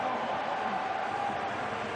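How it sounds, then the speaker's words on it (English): Partisan hockey arena crowd at a Calder Cup Finals Game 7 in Toronto reacting to a no-goal call, a steady broad roar of murmuring and voices filling the building for two seconds. "The crowd, slightly partisan,"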